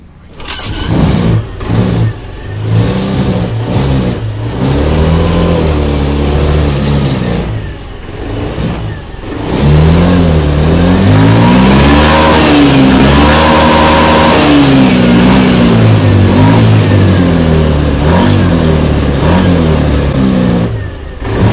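A Honda Beat scooter engine with a modified EOT sensor cranks, catches and settles into a steady close idle, then revs up and down in repeated rising sweeps, loud and alone throughout.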